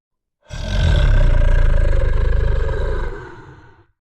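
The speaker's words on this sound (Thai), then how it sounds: "มันเป็นเสียงต่ำลึกเหมือนคำรามแผ่วๆที่สะท้อนตามต้นไม้" A deep, low growl like a large animal's roar echoes out of a forest, rising quickly, holding steady for about two and a half seconds, then fading away, loud and alone.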